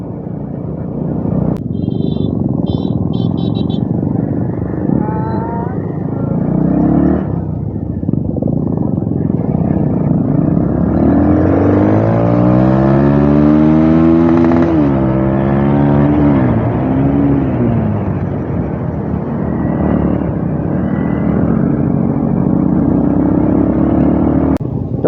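A group of four motorcycles, two carrying pillion riders, rides along a road toward Dipor Bil: a loud, continuous engine drone, rising and falling in pitch as the bikes accelerate and pass close by.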